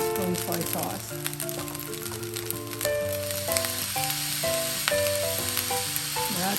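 Soy sauce sizzles as it hits garlic fried rice (sinangag) in a hot pan, a steady crackling hiss running under background music throughout.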